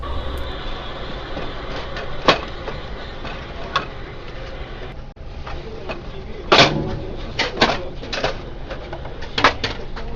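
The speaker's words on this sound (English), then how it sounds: "Open the front door and squeeze in the sides to remove it." Front door of a Xerox Phaser 3300MFP printer being opened and removed, a series of close sharp plastic clicks and clacks spread across a quiet room hum.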